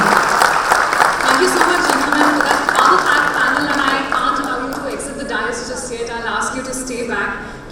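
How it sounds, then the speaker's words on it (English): Audience applause for a panel at a business conference hall, steady clapping that gradually thins out, with a voice speaking over it. "Is a big round of applause for our very own."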